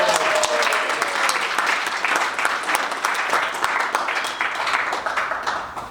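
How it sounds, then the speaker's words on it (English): Cinema audience at an evening screening in St. Louis breaks into steady, dense applause, many hands clapping continuously and fairly close throughout with no pauses. "Big round of applause."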